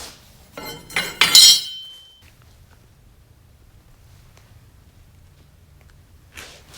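A steel bumper bracket from a 1953 Chevrolet 210 Hardtop is struck by a hammer: a quick cluster of three or four sharp metallic blows with a bright ringing tail, then near silence.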